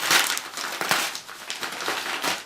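Crinkly wrapping rustles and crumples loudly up close as a book is unwrapped, a continuous stream of crackling handling noises.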